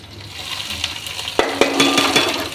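Onion frying in a pan for Bhojpuri-style chana ghugni, a steady close sizzle with a spatula scraping and clinking against the pan in several quick strokes.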